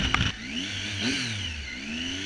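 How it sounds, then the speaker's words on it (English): A 2015 Triumph Tiger 800 XRx motorcycle fitted with an Arrow exhaust revs close by, its engine note rising and falling with a high whistling tone running over a steady mid-pitched drone. "the engine makes this nice whistling noise every time you rev."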